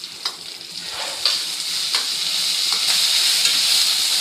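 Onion and green chili sautéing in a pan for a fish curry, a steady close sizzle that builds slightly louder, with a few soft scrapes of stirring along the way.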